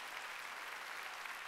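Steady applause from a church congregation at a Wednesday worship service, a dense even wash of clapping with no pauses, moderately distant and fairly soft.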